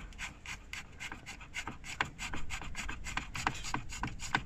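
A screw turned out of the heater control housing of a Mercedes Vito/Viano W639, producing a continuous close, rasping scrape with rhythmic gritty strokes over a low background hum and no speech.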